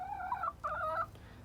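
A turkey gobbling twice in quick warbling bursts, near and fairly loud over a quiet background, with no voices.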